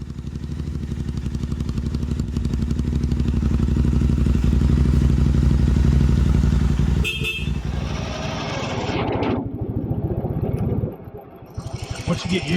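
A Honda CRF 450RL dirt bike engine drones loud and close with a steady rough rumble, then drops and shifts in tone as it changes pace, with a brief honk-like blip and clattering toward the end.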